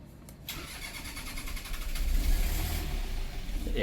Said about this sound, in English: Anyway, we'll get it running again.